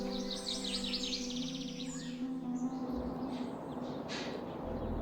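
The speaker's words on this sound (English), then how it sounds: "I woke up to the sound of birds singing in the garden" Birds sing in a garden in the video game Wanderlust: Travel Stories. Repeated bright chirps and trills run over a steady ambient bed, with the calls moderately close and continuous and no talking.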